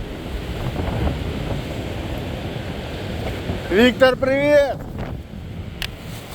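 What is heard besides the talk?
strong wind on seaside embankment in a storm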